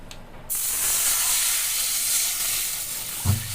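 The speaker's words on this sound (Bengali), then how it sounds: "এবারে পাত্রে, খালি পাত্রে দিয়ে দেব জল" Water poured into a hot empty cooking pot sets off a sudden loud sustained hiss and sizzle of steam that runs steadily for about three seconds, close by, with a brief clunk near the end.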